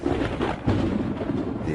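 Distant thunder before the rains on the African plains: a low, continuous rumble that rolls and swells softly for the whole stretch, with no other sounds over it.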